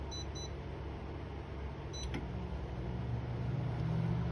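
A microwave oven runs after its cook time is set, giving a steady low hum throughout, with short electronic beeps from the keypad near the start and another beep midway.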